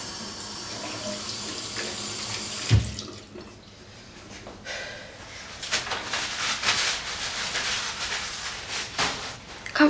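A tap runs into a sink with a steady rushing stream and a few splashes and knocks as the flow shifts, close and fairly loud, with no talking.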